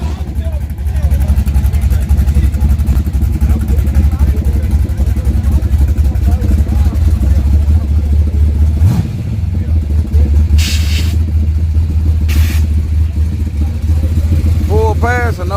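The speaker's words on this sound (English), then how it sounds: "Pro mod burnout." Pro mod drag car doing a burnout at a drag strip event: a steady, loud, roaring engine drone with tire-spinning clatter held for the whole stretch, dipping briefly partway through, while the crowd noise and voices blend in behind it.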